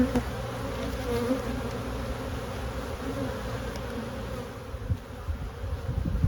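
Honeybees buzz steadily and densely while a hive is opened for a spring inspection, making a close, continuous drone with small shifts in pitch and no talk.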